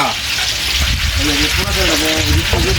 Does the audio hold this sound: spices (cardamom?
yes